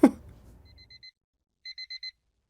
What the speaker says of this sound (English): it's my alarm